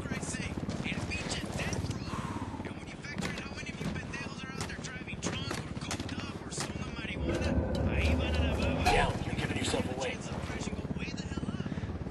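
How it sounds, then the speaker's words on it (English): Helicopter rotor and engine noise in the video game Ghost Recon Wildlands, a steady whirring drone that grows louder toward the end, mixed with game sounds and heard under ongoing talk. "let's uh, get to our helicopter"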